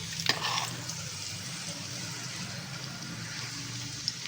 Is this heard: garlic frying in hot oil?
yes